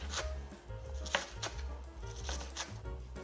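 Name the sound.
knife thinly shredding cabbage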